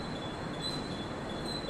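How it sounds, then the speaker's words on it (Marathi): An early-morning local train arrives at Khar station in Mumbai, a steady rumble with a high, sustained wheel squeal carrying throughout at moderate volume, with no voices. "गाइस हमारी ट्रेन अभी आ चुकी है"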